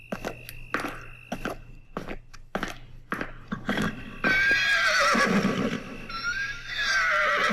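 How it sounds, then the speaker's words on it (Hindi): Hooves clop on a hard surface in an uneven walking rhythm, then a horse lets out a loud, drawn-out whinny close by. "अरे, घोड़े की आवाज़, लगता है बाहर कोई टांगा वाला है।"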